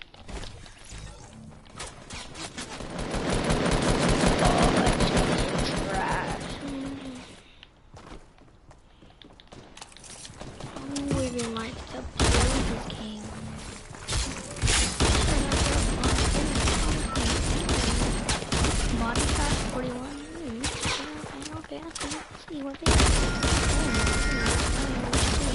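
Rapid bursts of gunfire from two guns fired at once in Fortnite, loud and close, in repeated volleys separated by brief lulls, with mechanical clicks and footsteps between the shots.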